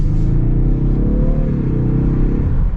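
A 2024 Ford Mustang EcoBoost's turbocharged engine accelerating hard from inside the car, a loud, steady, close droning rumble with rising harmonics that holds without pause, with no talk.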